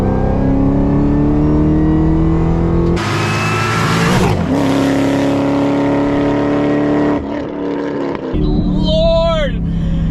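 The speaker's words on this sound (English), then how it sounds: "Let's hear the supercharger now from the inside." Inside a modified 5th-generation Chevrolet Camaro ZL1 with long tube headers, a loud engine drone climbs through revs with a high supercharger whine, cutting briefly between pulls, followed by a fast rising whistle near the end.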